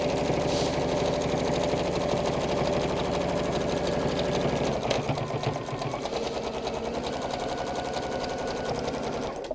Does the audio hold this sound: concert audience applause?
no